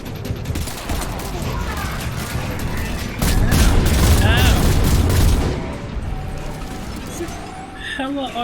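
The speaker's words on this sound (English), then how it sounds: "Hella artillery on that thing" Heavy artillery fire from Mass Effect 3 builds into a loud, dense barrage of booms and mechanical clatter, mixed with whirring effects and a voice speaking over the battle.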